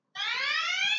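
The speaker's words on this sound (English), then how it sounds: "So I'm going to start our timer here. Starting session." An interval timer for a 30-minute Tabata HIIT workout sounds a single steady electronic beep, clear and close, held for about a second with no voices over it.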